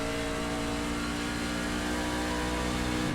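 Steady race car engine drone from a NASCAR racing game at the Iowa track, a continuous mid-pitched whine held at high revs without break and no talking.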